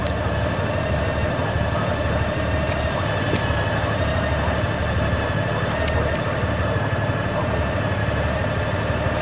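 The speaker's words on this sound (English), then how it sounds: "These are our motorcycles." Motorcycle engines idling at a roadside stop above a river gorge, a steady low rumble with a faint hum running continuously underneath, no talking.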